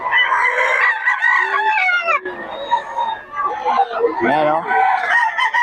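Pumpkin sweater gamecock roosters crow loudly and close by in Bocaue, several long overlapping cock-a-doodle-doos with some clucking, while someone speaks briefly.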